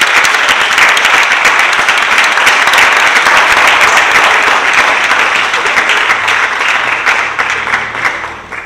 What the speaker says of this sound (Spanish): Les pido un fuerte aplauso para ella.